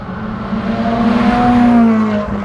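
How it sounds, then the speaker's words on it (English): A 2015 Ferrari 458 Speciale Aperta engine pulling from low RPM, a close, loud, grumbly rising growl that swells over two seconds before easing off. "Sort of a weird sound when you accelerate from low RPM. It's got grumbly there."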